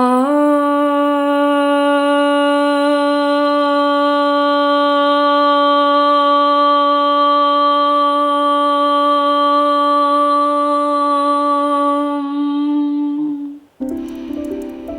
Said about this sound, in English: I'm going to sound Om one single time.